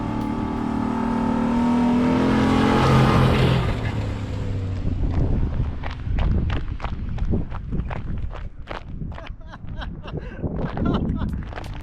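A Ford Raptor pickup roars in close and sweeps past, its engine swelling loudly over about four seconds before fading, followed by crunching, scattered footsteps and debris sounds.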